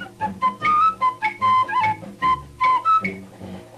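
A man whistles a bouncy tune in a cigarette radio jingle, with clear, bright notes in short phrases and quick breaks, over a soft backing.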